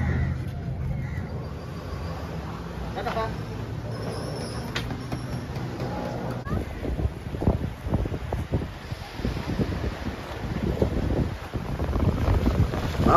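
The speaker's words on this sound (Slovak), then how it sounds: "Takže takýmto speedboatom sme sa dostali na ostrov Mafuši." Speedboat ride across open Indian Ocean water to Maafushi island in the Maldives, with a steady engine drone and heavy wind buffeting the microphone, choppy hull slaps growing rougher toward the end.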